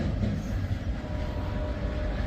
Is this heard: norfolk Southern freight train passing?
yes